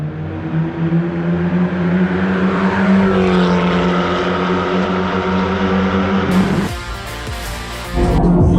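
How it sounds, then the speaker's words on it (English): A modified Abarth hatchback races around a track, its engine note loud and close with rising harmonics as it accelerates, then cutting off abruptly into a broadband rush near the end. "The Abarth coming in once again."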